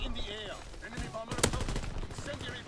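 Gunfire in Call of Duty WW2: a sharp burst of shots with one loud crack near the middle, set among game noise and scattered effects.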